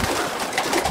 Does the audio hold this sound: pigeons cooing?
yes